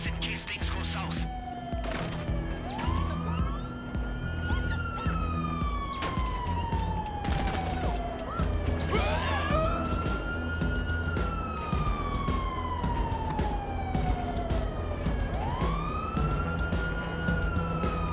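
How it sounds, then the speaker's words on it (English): Police sirens in a video game wail in long, sweeping rising and falling tones throughout, loud and steady over a rumbling background. "Yo, I can hear the sirens from here."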